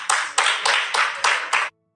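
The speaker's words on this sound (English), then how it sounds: "Why are they clapping?" Six strong, evenly spaced bursts of group clapping land in a steady rhythm roughly a third of a second apart, close and loud, then stop dead into silence.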